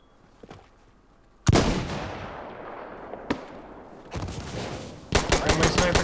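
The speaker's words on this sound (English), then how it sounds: "Friendly sniper shooting." Gunfire in Insurgency Sandstorm from a friendly sniper: loud, sharp rifle reports with long echoing tails, a single crack in between, then a rapid cluster of shots near the end.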